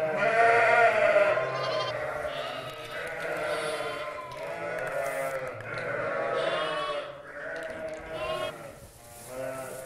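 Many lambs in a flock bleat continuously and overlap, a dense close chorus of wavering cries that rises and falls without pause.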